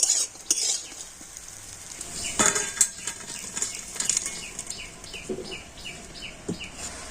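Fried soybean chunks are lifted from a wok with a metal spatula, giving repeated scraping clinks and clatter over a steady background sizzle of hot oil, fairly close with no talk.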